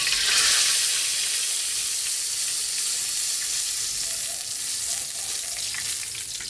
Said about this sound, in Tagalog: Pritong pork chop.